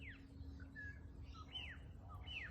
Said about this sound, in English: that is from the fruiting fig tree, which is full of fig birds. You can hear them.